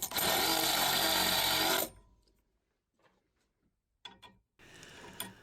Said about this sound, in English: finishing up with a countersink, making sure the head of the machine screw sits well below the surface